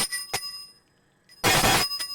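A small hand bell kept beside tarot cards rings out with bright, sustained metallic tones, a couple of short strikes followed by a louder, longer ringing burst up close.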